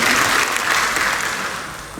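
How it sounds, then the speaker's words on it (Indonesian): Audience applause at a business and economic forum opened by a provincial governor, a full burst of clapping that starts strong and gradually fades over two seconds. "Tepuk tangan buat Pak Andi."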